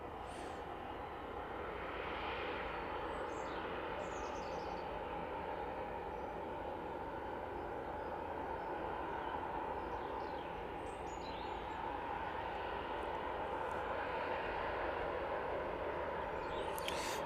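Jet airliner engine roar at East Midlands Airport, a steady broadband rumble lasting throughout at moderate distance, swelling slightly toward the end, with no talk.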